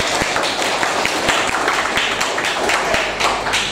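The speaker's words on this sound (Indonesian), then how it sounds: "Bisa dikasih aplaus buat Freya" Classroom applause for a student, a burst of scattered hand claps from a group, fairly loud and close, lasting a few seconds.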